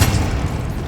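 Confringo blasting spell detonating in Hogwarts Legacy, a single loud booming burst that hits at once and decays into a rumbling tail, with no voices.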